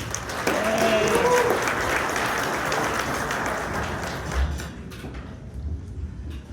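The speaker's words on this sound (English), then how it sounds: "Let's give them a round of applause." Loud audience applause fills the room at a morning community event in Corona, greeting the speakers from a home care service, with a few voices mixed in before the clapping thins out toward the end.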